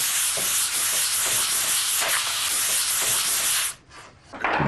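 Fine sandpaper rubbed by hand in circles over the wooden exterior of a bone-inlaid bargueño cabinet, a steady close scratchy hiss with soft repeating strokes that stops abruptly near the end.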